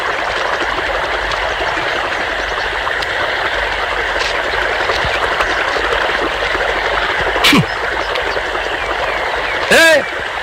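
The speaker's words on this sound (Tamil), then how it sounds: "எவ்வளவு தண்ணி போகுது பம்பு செட்ல" Water gushes from a pump set into a field channel, a constant close rushing wash that holds steady throughout, broken by two short rising whistle-like sweeps near the end.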